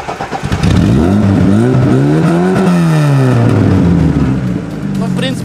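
A Lada Zhiguli fitted with a Stinger exhaust revs hard close by, the engine note climbing and falling in a loud sustained sweep, with voices briefly audible around it.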